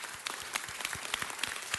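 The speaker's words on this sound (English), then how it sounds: "Give him a round of applause." A city council meeting audience gives brief, brisk applause, a dense patter of many hands clapping at moderate distance.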